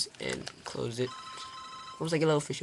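A phone rings with a thin electronic tone in the background while someone talks over it, the ring rising briefly between his phrases and staying quieter than his voice.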